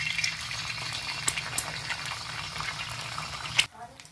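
An egg sizzles in hot oil on a tawa, giving a steady, fine crackle and hiss, with a few sharp pops before the sound drops off abruptly near the end.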